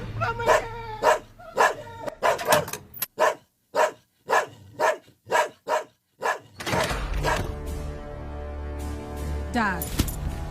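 A dog barks repeatedly in a steady run of sharp, loud woofs, then the barking gives way to a busier background with music or voices and a few yips.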